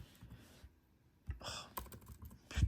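Clicky keyboard typing in short irregular bursts, with a few sharper key presses near the end. A low background rumble runs underneath and no one speaks.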